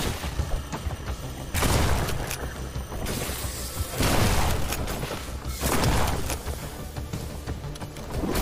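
Gunfire in the horror game In Sound Mind: several loud bursts of shots and booms arrive in waves, each swelling and fading, close and heavy.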